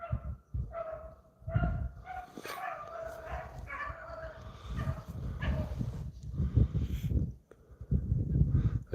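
Rabbit hounds give repeated baying barks and yips while chasing in the wild, at a moderate distance with irregular bursts, and someone talks over them at times.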